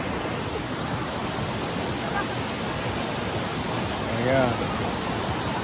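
Constant broadband roar of Tinuy-an Falls in Surigao del Sur, a wide waterfall, loud and steady, with a brief spoken word over it.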